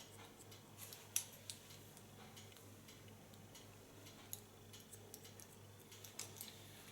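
Scissors snipping hair while a chin-length asymmetric bob is shaped: quiet, sharp metallic clicks in an irregular series, close by, over a soft steady background hum.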